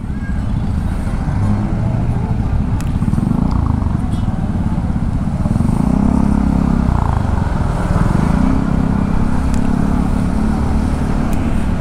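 Heavy congested road traffic in Batangas, cars and motorcycles idling and creeping along in a dense, loud, continuous rumble with engines swelling and passing close by.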